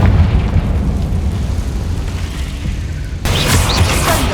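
Confringo spell blast in the game Hogwarts Legacy: a loud, rumbling fiery roar sustained up close, then a sharp brighter burst hitting near the end.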